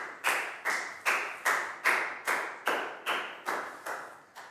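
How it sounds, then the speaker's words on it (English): A classroom of pupils claps together in slow, evenly spaced unison beats, about nine sharp claps in a row at close range, with no talking over them. "Big round of applause for Lakgao"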